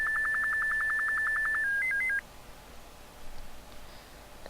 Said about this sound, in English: Oh, there goes the bleeping again.